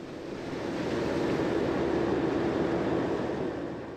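A heavy ferry boat plows through the water at Havasu Landing, giving a steady, loud rushing wash and engine drone that swells and holds for a few seconds with no voices.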